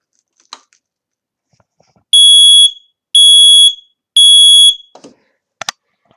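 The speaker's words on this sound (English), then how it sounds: "now let's test all the smoke alarms on the board" A smoke alarm sounds three loud, piercing beeps in steady succession, separated by short pauses, with faint clicks and handling noises around them.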